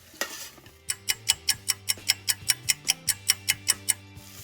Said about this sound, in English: now it's time to add in our garlic. And give this a stir.